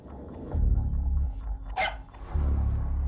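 A dog barks a few short times from close by, amid low rumbling ambience in a John Wick movie trailer.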